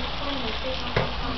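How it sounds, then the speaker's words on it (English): Garlic frying in oil, a steady close sizzle running throughout with a brief louder crackle near the end. "You gotta fry your garlic. You gotta fry your oil."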